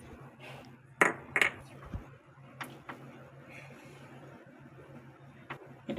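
A metal spoon stirs powdered milk into milk in a pot for a semolina sweet, giving a few sharp, scattered clinks against the pot over a low, steady background hum.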